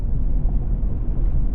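A Chevrolet Colorado Trail Boss pickup truck rolling over a cattle guard, a dense low rumble with steady roar and fluttering texture heard from inside the cab, fairly loud and continuous.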